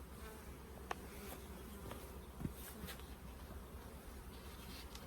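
Honey bees in a crowded hive make a continuous low, dense buzz, steady and close, with a few brief bees passing nearer.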